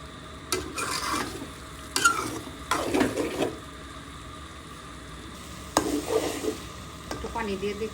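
Beef brain stirred and frying in a pan for a Bangladeshi-style bhuna: a steady sizzle broken by several louder scraping stirs of a utensil against the pan, close up and with no voices.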